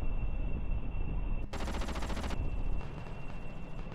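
In the BD Armory game, the Goalkeeper gun fires a dense, rapid burst of rounds that set off small explosions. The crackling barrage cuts in sharply, rattles for about a second, then fades to a lighter patter over a low rumble.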